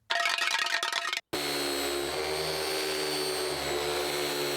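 A clattering mechanical whir cuts off briefly, then a loud vacuum cleaner drones steadily with a high, continuous whine, close and sustained.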